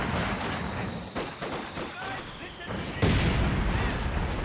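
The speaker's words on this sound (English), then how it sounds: "Pretty good mortar shot." Mortar fire in a competitive real-time strategy match, heard as dense, rumbling blasts and crackling gunfire, with a heavier boom near the end that lingers over steady battle noise.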